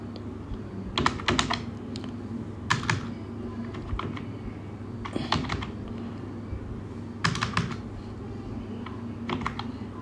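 Fingers tap a computer keyboard while filling in an online visa application form, bursts of quick close keystrokes separated by short pauses, with soft room hum beneath and no talking.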